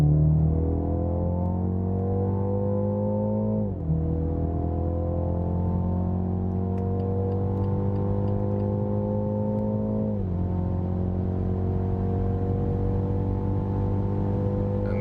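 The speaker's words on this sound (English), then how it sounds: "take this one here on unlimited Autobahn part in the sports mode and see how is this with a small displacement in the higher speed regions" Small-displacement BMW SUV in sport mode pulls hard at high speed on an unlimited Autobahn, its engine note rising steadily through two gear changes with brief dips before climbing again, loud and continuous under steady road and wind roar.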